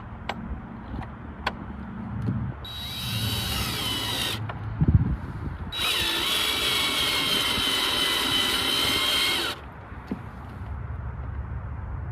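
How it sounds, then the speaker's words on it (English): A power drill fitted with a Phillips bit drives a screw during a holster mount install, two whirring bursts of a few seconds each separated by a pause, with faint clicks and handling noise around them. "I'm going to switch out the drill bit for the Phillips head. I'm going to run my first screw in."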